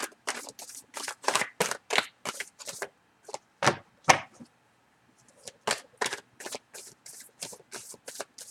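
A deck of tarot cards being shuffled by hand, a run of crisp riffling bursts broken by a short pause midway, then more quick shuffles close to the listener with no talk.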